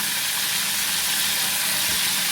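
A beef burger patty sizzles in a hot pan, a second patty just added and pressed flat to dry out its moisture; a steady, loud, continuous hiss and crackle fills the whole moment with no talking.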